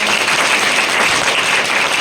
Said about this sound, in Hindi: एक बार इन बच्चों के लिए जोरदार तालियां।